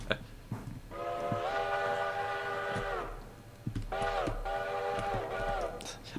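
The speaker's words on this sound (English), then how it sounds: "I'm just messing around with the whistle." Chime-like train whistle of a New York Central locomotive in the railroad game Railroader, sounded in two long blasts, the first about two seconds and the second in shorter pulses, with faint rail rumble beneath.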